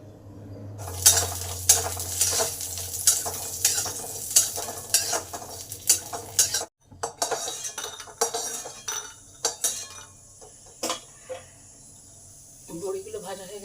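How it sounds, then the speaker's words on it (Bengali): Lentil dumplings (bori) fry in hot oil in a wok with a steady sizzle, broken by repeated metallic clinks and scrapes of a spatula stirring against the pan. "আগে বড়িগুলো ভেজে নেব।"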